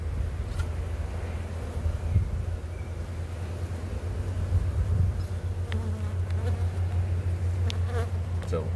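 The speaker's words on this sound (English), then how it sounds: "There are a ton of bees in here." Honey bees in a full spring hive box drone in a steady, low, close-up buzz, continuous and dense throughout with faint scattered clicks and movement on top.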